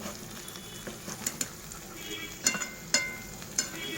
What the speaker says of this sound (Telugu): లో ఫ్లేమ్లోనే ఇవి వేపుకోవాలి మనం లేకపోతే లోపల పచ్చి ఉండిపోయి పైన ఎగిపోద్దండి